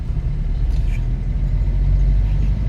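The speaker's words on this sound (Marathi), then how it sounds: "त्याच्यानंतर आता थोडंसं गाडीला एक्सिलेटर देऊ." A car engine in second gear is given throttle, producing a loud steady low rumble that holds and swells slightly, heard from inside the vehicle.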